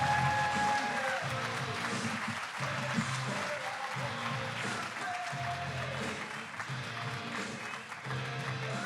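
Applause from an audience at a startup demo day, a steady patter of many hands clapping continuously, with a voice speaking faintly underneath.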